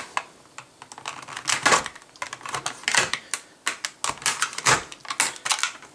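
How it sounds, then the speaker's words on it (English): A Leatherman Wingman multitool slices through tough plastic packaging, giving a run of sharp, irregular crackles and snaps that are close and fairly loud, with no talking. "So it will cut the packaging."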